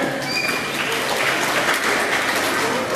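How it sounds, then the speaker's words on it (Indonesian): Audience applause at a Muslim youth camp program, a steady wash of many hands clapping at moderate distance, continuous throughout with no speech. "berikan tepukan. Tepukan."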